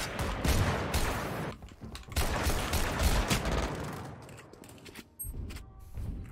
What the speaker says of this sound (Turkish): Stinger'la o mesafeden adam vurdu